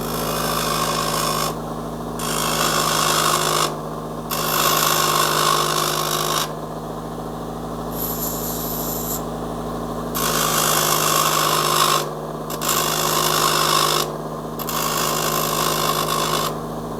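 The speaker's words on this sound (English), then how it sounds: "I'll grind all of the ends of the rod smooth on my Diamond Pacific flat lap" A diamond flat lap grinder whirs steadily as glass rod ends are pressed against it in repeated passes, the harsh scraping surging and dropping off at intervals.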